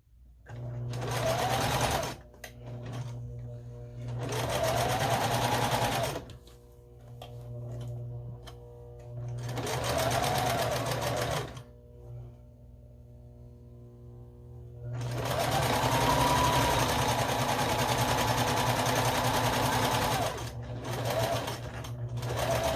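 A sewing machine stitches a scrappy string quilt in four long, loud bursts of steady motor whir, separated by short pauses with a low hum in between.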